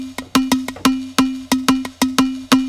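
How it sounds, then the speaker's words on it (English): Nexus synth patch gated through Logic step effects, supercharger compression and EQ, firing short punchy pulses in a syncopated pattern over a steady low tone, loud and close with no voices. "it's a Nexus patch run through step effects in Logic"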